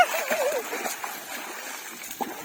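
Small children splash and play in bath water, making quick, scattered splashes and sloshes with a young voice briefly audible at the start.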